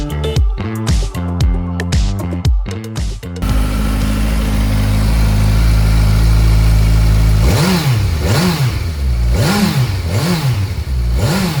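A 2020 Kawasaki Ninja 1000SX ABS sports touring motorcycle, its engine blipped in a few short revs, then held at a loud, steady throbbing idle close by before several rising and falling throttle revs.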